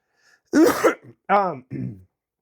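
A person coughs and clears their throat close by, in three rough bursts.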